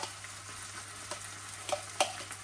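Onion fries quietly in a pan: a soft, even sizzle with a few light spatula taps and scrapes standing out.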